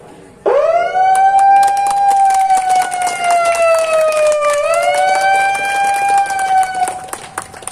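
A loud wailing siren opens a boat racing festival at a mangrove ecotourism site, starting abruptly, holding a long rising tone, dipping, then swelling again before cutting off, with scattered background noise.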